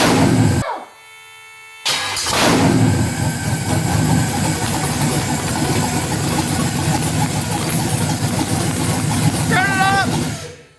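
A freshly built LS1 5.7-litre V8 cranks and fires up for the first time, the engine catching after a brief pause and then running loud and steady with a rough, lumpy idle that fills the whole stretch.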